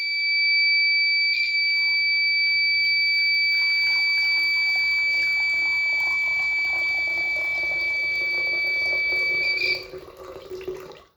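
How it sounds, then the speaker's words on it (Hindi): Water poured slowly into an empty underground tank fitted with a water level indicator, trickling and splashing steadily beneath a loud, continuous electronic buzzer tone that stops near the end. "तो मैं इसमें आहिस्ता आहिस्ता पानी डालता हूँ।"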